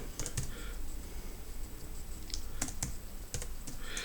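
Typing PHP code on a computer keyboard, with scattered key clicks and short bursts of keystrokes at a close, quiet level with no voice.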